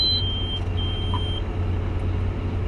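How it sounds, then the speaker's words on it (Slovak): Inside the cab of a John Deere 8R combine harvester during harvest, a few short, thin electronic beeps ring out over a loud, steady engine drone. "toto, čo to tu pípa,"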